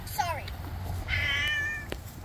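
A cat meows close by, one short rising-falling call followed by a longer, drawn-out meow, over a low background hum.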